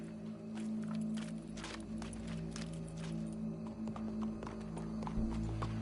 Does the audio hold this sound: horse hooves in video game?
yes